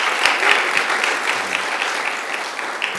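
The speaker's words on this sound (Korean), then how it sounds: "다시 한번 박수 부탁드립니다" Steady audience applause from a crowd at a church school conference presentation, dense even clapping with a few sharper individual claps, moderately loud and continuous throughout.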